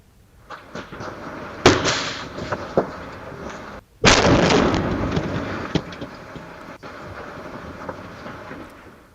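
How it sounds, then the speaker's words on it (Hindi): Bomb blast explosion in Bhagalpur caught on CCTV: a sharp loud bang followed a couple of seconds later by a heavier booming blast with a long rumbling tail, heard from a distance with no voices. "धमाका काफी तेज था, जिससे पूरे इलाके में जोरदार आवाज आई"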